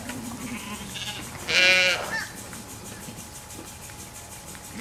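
A single loud sheep bleat rings out for about half a second on a rotationally grazed pasture farm with cattle and poultry, standing clearly above a quiet outdoor background hum.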